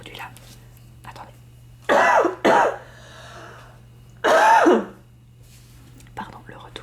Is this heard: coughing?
yes